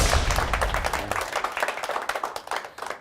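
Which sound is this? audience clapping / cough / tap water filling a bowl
audience clapping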